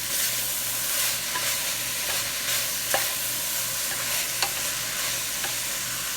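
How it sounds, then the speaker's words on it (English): A spoon stirs homemade beef vegetable soup in a pot over a constant soft simmering hiss, with a few sharp scrapes and taps against the pot sounding close; no voices. "Give this a stir."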